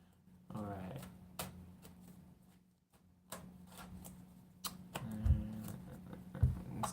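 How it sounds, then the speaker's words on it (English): A deck of playing cards is shuffled in a few quick riffling bursts of crisp papery clicks, close to the microphone, with people talking over and between them. "Let's get a good shuffle of these cards real quick."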